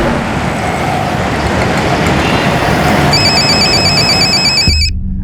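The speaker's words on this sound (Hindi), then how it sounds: "ज़रा फ़ोन देख तो" An electronic telephone ringtone trills in a rapid repeating pattern over loud, steady street traffic, then cuts off abruptly. The ringing starts partway through, and the street noise continues throughout.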